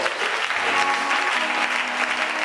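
Sustained, dense applause from a church audience acclaiming Jesus Christ during a programme, loud and even throughout with no pauses.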